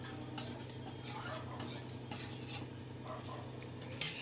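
Spices stirred constantly in a pan over a high gas flame: a spoon scrapes and taps the pan in a quiet, irregular rhythm over a faint steady hum, with no voices.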